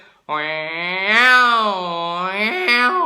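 A voice imitates male cats fighting, drawing out a long, wavering, yowling moan with a few sharp pitch jumps near the end.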